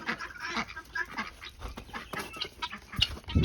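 Chickens and a white guinea fowl let out after a snowstorm make a scattered mix of clucks, honks and squawks, close and moderately loud, in quick irregular bursts.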